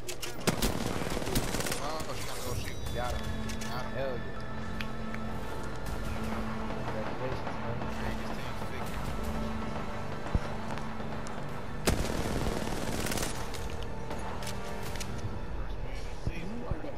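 Gunfire in Apex Legends, a steady rattle of rapid automatic shots running throughout with a few heavier thumps, under nearly constant talk from players.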